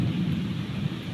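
Thunder rumbling during a heavy storm, a steady low continuous roll with broadband noise like rain, with no clear sharp crack.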